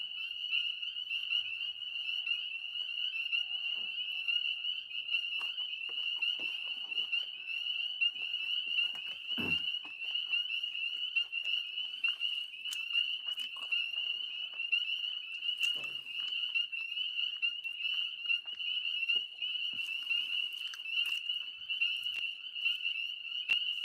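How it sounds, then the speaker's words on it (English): A dense chorus of frogs trills continuously at a high pitch at night in Pennsylvania, steady and loud, with occasional faint knocks and rustles in the background. "I know the sound of the frogs are somewhat deafening."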